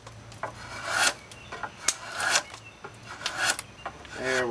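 A drawknife pulls shavings off a wooden chair spindle in a series of close, rasping scraping strokes, each rising and fading, roughly one every half second to second.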